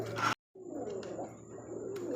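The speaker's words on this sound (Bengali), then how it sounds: "দেখছেন কোয়ালিটি কত সুন্দর একজোড়া কবুতর" A pair of high-quality pigeons at a market coos softly; a low continuous murmuring call runs through most of the clip, quiet and close, with no talking.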